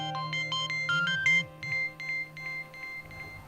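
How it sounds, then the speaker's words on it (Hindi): A phone rings with a bright electronic ringtone: a melodic pattern of repeated beeping tones that pauses and starts again over a low steady background hum. "किसका फोन है?"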